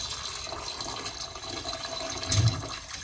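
Water is poured into a pot of rice to cook it, a steady, close trickling stream with a brief louder splash near the end.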